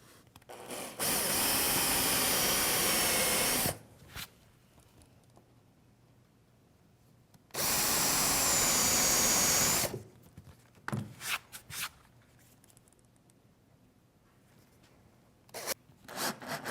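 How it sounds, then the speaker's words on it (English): Two long bursts of a power drill boring holes into wood for a panel-cutting sled runner, each a few seconds of loud whirring, separated by quiet handling noises and small clatters. "So I'll just drill a couple of holes"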